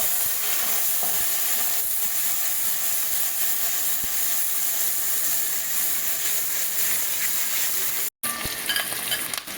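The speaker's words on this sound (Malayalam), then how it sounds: "അപ്പൊ തക്കാളി ചേർത്തു, സവാള ചേർത്തു, ഉള്ളി ചേർത്തു. ഇത് വഴണ്ട് വരട്ടെ." Onion and tomato sautéing in a hot pan for tiffin sambar, a loud continuous hissing sizzle with occasional stirring scrapes and a momentary cut near the end.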